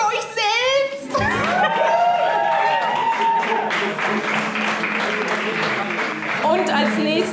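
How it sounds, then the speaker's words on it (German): Concert audience at a 30th birthday party applauding steadily under a loud voice and shouting over it, the clapping sustained throughout. "Applaus für euch selbst!"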